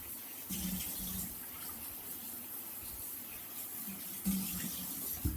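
Tap water runs steadily into a sink while mushrooms are washed under it, a continuous close gushing rush with occasional splashes and bumps as the mushrooms are handled.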